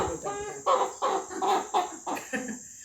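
A chicken clucks close by in a rhythmic series of about seven short calls, fairly quiet, with a faint high electronic whine behind.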